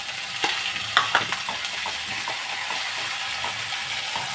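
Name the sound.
onions and curry leaves sautéing in a pan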